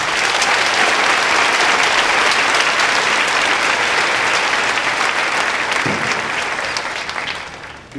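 Sustained, dense applause from the audience at a high school graduation ceremony, loud and steady throughout before tapering off near the end.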